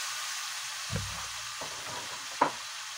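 Garlic, onion and tomato fry in a pan for a sautéed chayote and squash dish, with a steady soft sizzle and a few sharp stirring knocks, no talking.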